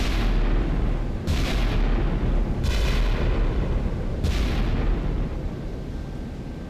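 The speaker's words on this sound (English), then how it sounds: "Every time one of those guns fires, that is 660 pounds of powder." Main guns of the battleship Wisconsin fire in the naval game Sea Power, three heavy booming salvos spaced about a second and a half apart over a constant low engine and sea rumble.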